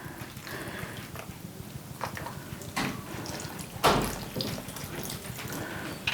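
Water poured onto Jiffy seed starting pellets in a seed starting greenhouse kit tray, a steady close trickle and splash with a couple of louder gushes.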